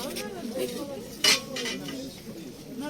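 A single bright clink of a thin-walled porcelain tea set near the middle, faint and close, over a quiet room with soft background murmur.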